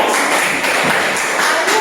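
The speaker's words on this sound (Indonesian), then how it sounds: "Tepuk tangan buat Saputra" A classroom of students claps for a classmate, a steady, loud patter of many hands throughout.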